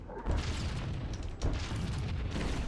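Grenade launcher fire from an assault rifle in a Halo mod, a dense rolling roar of blasts with heavier booms near the start and midway, loud and without pause.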